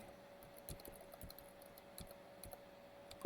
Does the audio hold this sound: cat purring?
no